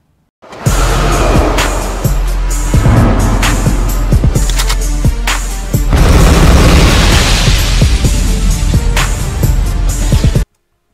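Heavy missile blasts and booming explosions from Call of Duty: Modern Warfare Remastered, a loud, continuous barrage with repeated sharp impacts and rumbling low end that runs almost without pause.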